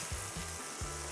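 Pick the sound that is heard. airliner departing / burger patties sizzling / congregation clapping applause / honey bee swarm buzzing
burger patties sizzling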